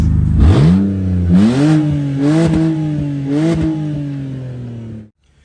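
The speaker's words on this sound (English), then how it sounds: "Come on, give it a rev." A BMW engine with its exhaust system removed revs several times in quick succession, each throttle blip rising in pitch before settling, loud and close, then cutting off abruptly.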